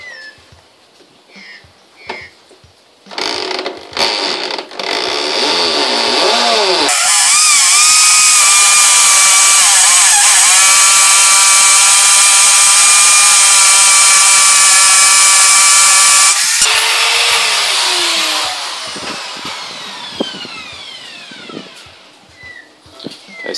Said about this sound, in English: So we've got it set to hammer, so that this will move back and forth and push its way through the brick as it's spinning.